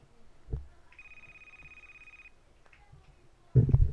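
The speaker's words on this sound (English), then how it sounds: "I click on pick up the phone call, and it's going to ring directly to me, just like that." A call-center phone line rings once with a clean, sustained electronic tone lasting over a second, amid faint clicks and quiet room noise, followed by a burst of louder noise at the end.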